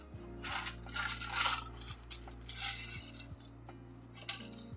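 Plastic keycaps rattling and clinking inside a metal cookie tin, a close, faint jumble of bright clattering bursts that come in small clusters over a low background hum.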